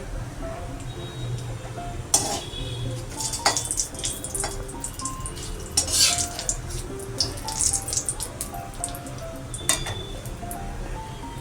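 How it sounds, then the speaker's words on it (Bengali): Whole cumin seeds, a bay leaf and a dried chili dropped into hot oil in a wok, giving a soft sizzle with scattered clinks and taps of utensils against the pan, fairly quiet throughout. "এবার কড়ার মধ্যে তেল দিয়ে নিয়েছি, এর মধ্যে আমি গোটা জিরে দিয়ে দিচ্ছি, আর তেজপাতা দিয়ে দিচ্ছি"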